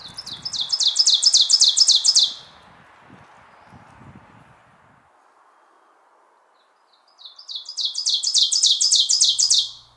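Two bursts of rapid, rising ovenbird song, each a ringing series of repeated phrases growing louder, separated by a quiet pause with faint rustling.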